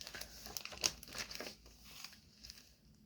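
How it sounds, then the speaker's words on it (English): Crunchy tracing paper in a junk journal crinkles and crackles as pages are handled, a run of close, quiet rustles and crisp crackles that fade toward the end. "Some super crunchy tracing paper."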